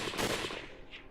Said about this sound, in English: we'd heard more gunshots coming from the direction towards which we had been running